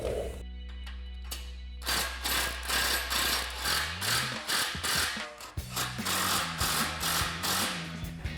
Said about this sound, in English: we can take a 15mm socket to tighten down our bolt